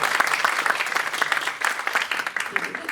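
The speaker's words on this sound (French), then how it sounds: "donc on peut l'applaudir parce qu'elle a fait un super travail." Steady, fairly loud applause from a conference audience for a Belgian gerontologist, many hands clapping in a dense continuous patter with a faint murmur of voices beneath.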